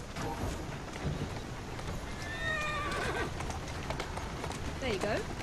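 In the Assassin's Creed Syndicate video game, a horse whinnies loudly with rising and falling calls while hooves clip-clop in a steady rhythm, set against game ambience, and someone talks over it.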